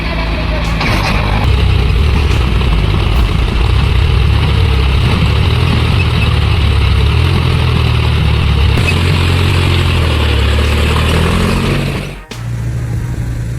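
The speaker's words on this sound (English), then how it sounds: "The giant tractor, with its muscular body and powerful roar, is trying to escape the cruel embrace of the deep mud." A giant off-road tractor engine roars steadily at high load while stuck in deep mud, a loud, continuous low rumble held for over twelve seconds, dipping briefly near the end before resuming.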